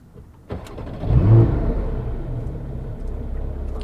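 A Porsche Boxster GTS with a 4-liter naturally aspirated engine starts up close by with a sharp crank and a rising bark, then settles into a steady, deep rumbling idle.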